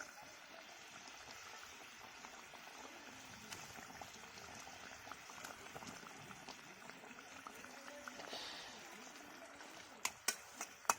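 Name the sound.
fish curry gravy boiling in a pot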